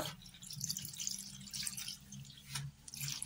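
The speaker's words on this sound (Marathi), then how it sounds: "आता याच्यावर थोडं पाणी टाकते थंड." Cold water poured over freshly boiled pasta in a home kitchen, a quiet splashing and dripping trickle in uneven bursts, close and soft.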